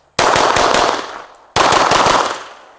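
Two rapid automatic bursts of gunfire at a shooting practice session, each a loud dense string of shots that cuts in sharply and trails off, separated by a brief pause.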